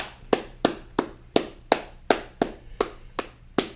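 Graduation commencement applause at a 2020 graduate school ceremony, heard as a steady run of about eleven sharp, evenly spaced handclaps, sparse and fairly close, with no voices.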